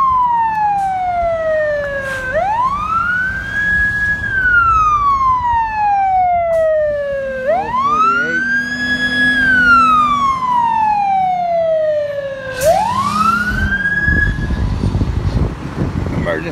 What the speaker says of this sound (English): Emergency vehicles just arrived.